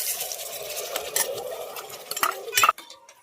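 Ginger-garlic paste and tomato paste frying in a pan while a spoon stirs and scrapes the metal, with irregular clinks and scrapes over a soft sizzle, a few sharper knocks near the end, then quiet.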